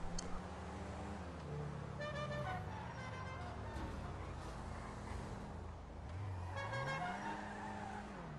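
Car in GTA Online driving with a steady engine drone and rising, falling revs, tire squeals and skids breaking through in bursts around the middle and near the end, no talking.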